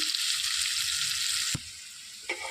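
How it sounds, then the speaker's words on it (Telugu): Onions fry in a pan for a cabbage and chana dal curry, a close, steady hissing sizzle that drops to a quieter crackle partway through, followed by one brief stir, with no voices. "ఉల్లిపాయలు వేసుకొని మంచిగా వేయించుకోవాలండి."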